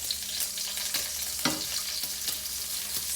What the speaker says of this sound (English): I start cooking shrimp in here with oil.